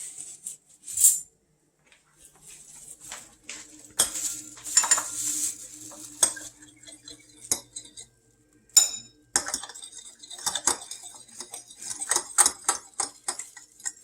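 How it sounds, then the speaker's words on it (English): Fork whisking eggs in a bowl for an omelet, a run of quick irregular metallic clinks and ticks against the dish, close and fairly loud, with brief pauses. "And then I'll be using another fork for the whisk."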